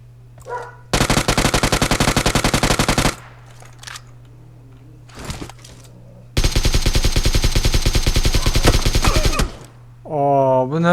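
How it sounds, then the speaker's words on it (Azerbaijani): Automatic gunfire from the mobile game PUBG Mobile rattles loudly in two long sustained bursts with a short gap between them, and a brief voice is heard at the very end. "Atışma səsi var."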